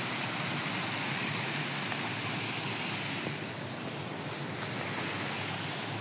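Water flows along a village riverbank on a foggy winter morning as a dense, constant wash of rushing noise, loud and unbroken, with some wind buffeting mixed in and no talking.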